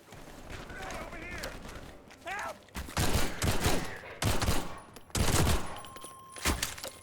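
Pistol shots in Half-Life 2 MMod, several loud sharp cracks fired in quick bursts at close range with brief gaps, someone speaking over the start.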